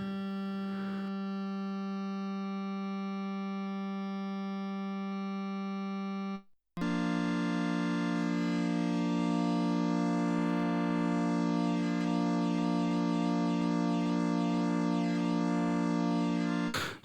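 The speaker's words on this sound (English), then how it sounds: "So what you're hearing right now is the flanger effect," A sustained transwave synthesizer tone on an Ensoniq EPS-16 Plus holds steady, breaks briefly, then returns with a sweeping, whooshing comb-like flanger swirl moving through it, loud and continuous.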